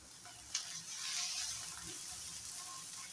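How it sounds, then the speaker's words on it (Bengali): Paneer frying in just a little oil in a pan, giving a steady soft sizzle with a brief clatter near the start and no talking. "একদম কম তেল দিয়ে এভাবে একটু ফ্রাই করে নেবে।"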